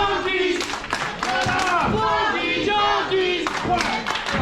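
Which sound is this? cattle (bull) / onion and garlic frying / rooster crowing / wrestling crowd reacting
wrestling crowd reacting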